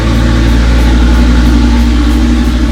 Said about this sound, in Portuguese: tá passando um caminhão aqui